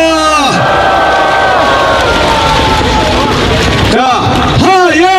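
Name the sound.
rally crowd applauding and cheering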